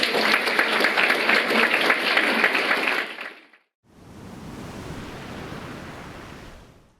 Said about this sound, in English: I think a bit of a round of applause.